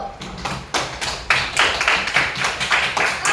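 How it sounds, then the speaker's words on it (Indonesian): Classroom clapping as a group of students applauds a classmate: uneven bursts of hand claps that build into a rough, repeated rhythm, close by and moderately loud, with little talk over it. "Kasih tepuk tangan dulu."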